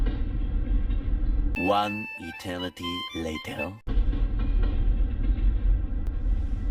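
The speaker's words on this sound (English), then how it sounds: "It's a very, very long train." A very long freight train passes a level crossing near Mount Robson in the Canadian Rockies, a deep continuous rumble and rolling clatter that runs throughout, briefly overlaid by a speaking voice in the middle.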